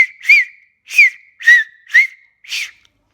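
Lip whistling without fingers, five short clear notes in an even rhythm, each with a quick pitch bend, loud and close with silence between them and no talking.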